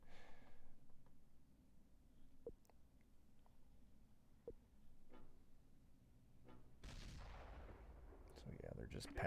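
Artillery shells pound a building in the wartime strategy game Close Combat: faint, scattered distant booms and sharp cracks, then a louder rumbling burst of impacts near the end.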